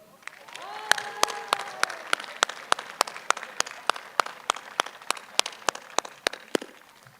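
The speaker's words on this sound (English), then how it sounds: "once again, a round of applause for all of our student award winners" An audience at a middle school graduation ceremony applauds student award winners for several seconds, a crowd's clapping settling into sharp, evenly spaced claps that continue to the end.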